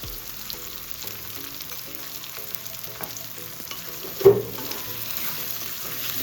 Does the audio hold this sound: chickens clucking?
no